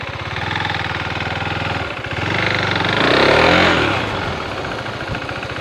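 A new KTM motorcycle engine idling with a low, even putter, then revving up and rising in pitch around the middle before settling back toward idle, close by with no speech.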